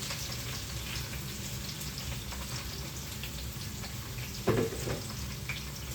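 Chopped onion and green chilli frying in hot oil, a steady close sizzle throughout with a brief clatter near the end.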